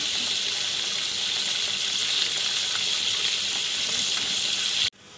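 Beef pakoda deep frying in hot oil, a steady, dense hiss of bubbling oil that holds evenly throughout before cutting off abruptly near the end.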